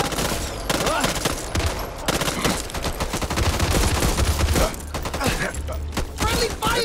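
Loud rapid bursts of automatic gunfire in the video game Back 4 Blood, near-continuous volleys with short gaps, close up, with occasional voices mixed in.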